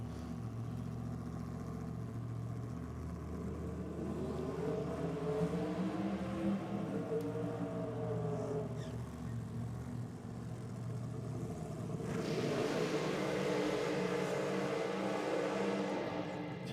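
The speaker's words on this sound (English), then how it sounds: "Two stout burnouts there." Drag racing cars doing burnouts at Sydney Dragway during a NSW Championship round: a sustained, loud engine roar with rising and falling revs that swells again near the end, with no talk.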